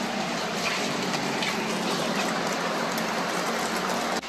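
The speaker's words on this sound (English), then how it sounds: "it's raining." Steady, heavy rain falls outside, a dense continuous hiss of drops on surfaces that stays loud and even throughout, with no voices.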